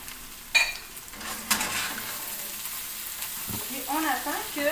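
Onions, mushrooms and garlic fry in a pan with a steady sizzle, broken by a few sharp clinks and scrapes of stirring, with a brief faint clatter near the end.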